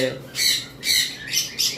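A yellow-sided sun conure gives four harsh, loud squawks in quick succession, close by, with a brief voice just before the first.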